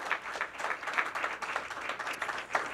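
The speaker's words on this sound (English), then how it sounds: "Let's have a big round of applause for," Applause from a studio audience at a televised 1991 bowling show, a moderate, uneven patter of hands clapping with some sharper bursts, fairly quiet and continuous.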